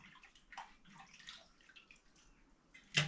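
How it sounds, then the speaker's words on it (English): Water splashes and drips as food is rinsed by hand in a sufuria pot, soft intermittent sloshing with a sharper splash at the end. "let me wash it while I put in this sufuria here"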